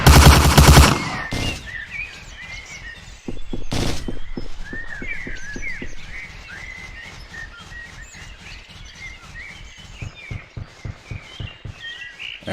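Rifle gunfire in the video game Hidden and Dangerous Deluxe, with loud opening shots followed by rapid bursts and steady rhythmic pops against a bed of chirping birds, shots growing lighter and more spaced toward the end.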